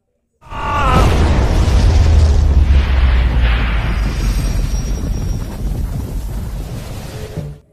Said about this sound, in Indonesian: membuat ledakan yang sangat dahsyat